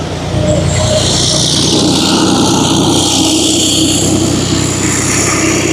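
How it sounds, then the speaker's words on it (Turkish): Loud, steady engine drone of a tractor passing close by in a village near Bodrum, Turkey, heard from inside an MG4 electric car, a continuous rumbling hum without talk. "Yine traktörümüz geçiyor."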